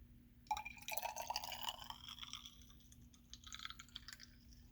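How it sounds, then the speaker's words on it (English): Sodium carbonate solution poured into a measuring cylinder, a soft trickling and dripping pour of a few seconds, faint and close against a quiet background hum. "we will take the NaCO3 solution that we made, and we will pour it into a measuring cylinder"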